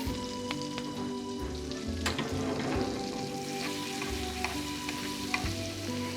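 Butter with a little olive oil frying alongside garlic and a bay leaf in a pan, a steady close sizzle with light crackles and the occasional stirring scrape.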